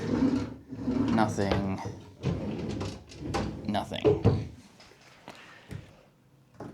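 Drawers in a student accommodation room slide open and shut with a few wooden knocks and clunks. A person talks over most of it.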